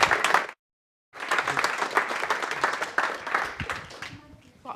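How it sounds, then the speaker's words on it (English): A live audience claps at a leadership talk event: after a brief clap and a moment of silence, a full round of steady crowd applause rises and continues, tapering off at the close. "can we just get a round of applause for Andy?"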